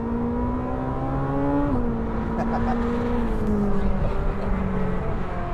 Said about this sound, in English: And now I'm in full manual, and we can go down through the gears.